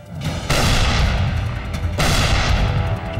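Heavy tank cannon fire in a desert battle at El Alamein: two loud, booming blasts, each followed by a long rumbling roll of echo and debris noise.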